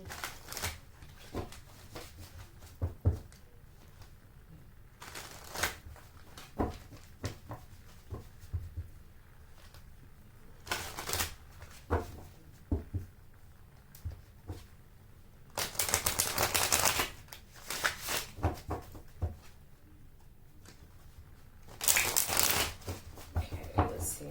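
Oracle cards shuffled by hand for a reading, a run of quick papery riffles and flutters in bursts, with two longer, louder shuffles near the end, close and alone.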